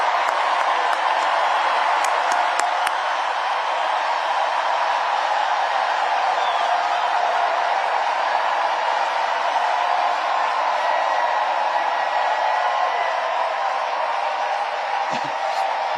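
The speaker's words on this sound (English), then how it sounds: "Lots of clapping." A large crowd at a political speech claps and cheers in a loud, sustained roar of applause with scattered whoops. It stays steady and dense from start to finish, with no voices talking over it.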